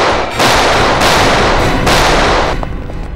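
Gunshots at a firing range arrive as loud, close, sustained blasts in three long bursts, followed by a quieter tail.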